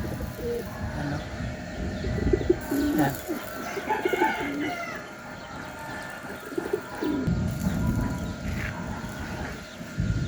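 Pigeons coo softly in low, repeated burbling calls, with faint rustling and a brief spoken word.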